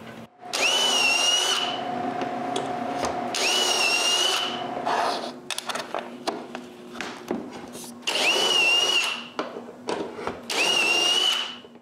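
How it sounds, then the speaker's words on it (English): A power drill whirs in four separate bursts, each a few seconds long, drilling shelf holes in wood for a kitchen cupboard, with brief pauses and some clattering handling noise between them. "I cut a spacer and use it as a guide to drill all the holes."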